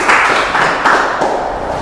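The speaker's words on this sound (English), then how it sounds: "Let's give it a clap." A class applauding at the end of a talk on HIV and AIDS, with loud, close, continuous clapping from a group of students for a short burst.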